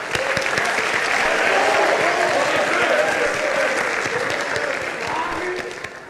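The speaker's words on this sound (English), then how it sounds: "let's give a big round of applause for all the male athletes sitting in the room right now" Crowd at a high school sports awards ceremony giving loud sustained applause for the male athletes, dense clapping swelling then easing slightly toward the end, with faint voices and cheers underneath.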